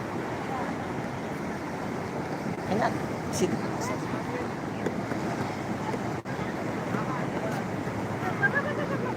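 Surf and gusting wind at Madasari beach in Pangandaran make a steady broadband wash with microphone buffeting, while a person speaks briefly nearby.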